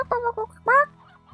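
A chicken in the video game Slime Rancher gives a few short clucks followed by a longer squawk, close and clear over a faint low game hum.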